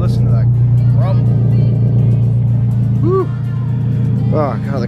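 A 2014 Scion tC idles with a loud, close, steady low engine and exhaust grumble that holds throughout, with a few faint chirps above it.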